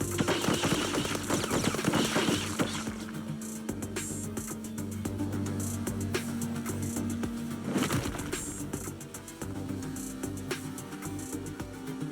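Rapid gunfire from the video game Path to Nowhere, bursts of automatic fire dense at the start, then steady crackling shots with a sharp burst near the eight-second mark, loud throughout with no talk.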